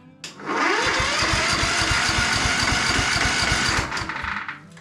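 A vehicle engine with an electrical fault is cranked by its starter with the key: a loud, close, rapid chugging whirr of steady cranking pulses for about three seconds that does not catch, then winds down.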